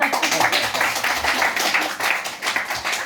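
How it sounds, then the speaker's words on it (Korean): A church audience at a teacher-training sermon claps in a steady burst of applause, many hands together, fairly close and loud for a few seconds. "박수해 주세요."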